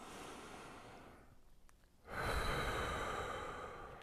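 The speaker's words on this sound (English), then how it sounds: "Breathing really deep. Long exhale." During a seated chair exercise, a deep breath in and a long, slow exhale sound close by, a soft airy rush that dips into quiet before a stronger breath swells back.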